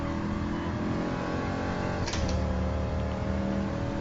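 A race car engine in Gran Turismo Sport drones loud and steady at high revs, with a brief sharp shift-like blip midway and no pause.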